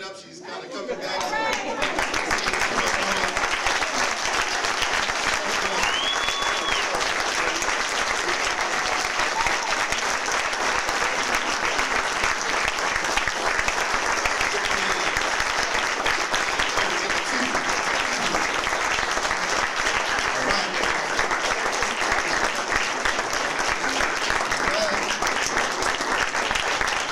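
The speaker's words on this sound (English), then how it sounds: "Y'all can clap it up." Audience applause at a talk by Dr. Frances Cress Welsing, a loud, sustained crowd clapping that swells in quickly and holds steady with no voices over it.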